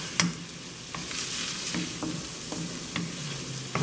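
Food sizzling steadily in a pan on medium heat, a soft continuous hiss with occasional light taps and scrapes, heard alone without talk.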